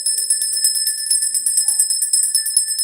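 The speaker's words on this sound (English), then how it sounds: "Let's ring the bell for that." A bell rings rapidly and repeatedly in a bright, near, metallic trill that holds a steady pulsing rhythm throughout, with no talking over it.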